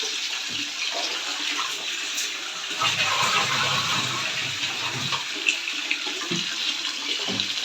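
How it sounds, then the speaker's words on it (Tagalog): Water runs steadily into a washing machine tub at home, a continuous broadband rush with no break and a few small splashy variations, close and fairly loud. "kailangan ko pa siyang dagdagan ng tubig"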